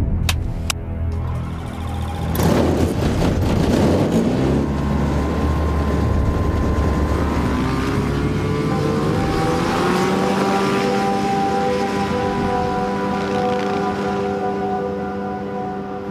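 A light aircraft drones over the African bush, its engine a steady loud hum with a rising tone after a brief rumble at the start, carrying on alone throughout.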